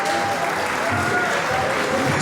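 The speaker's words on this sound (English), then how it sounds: "So give a big round of applause for yourselves." Delegates at a Model United Nations conference at St Joseph's College, Nainital give a steady round of applause, dense and continuous clapping from a large hall audience, filling the whole moment at even loudness.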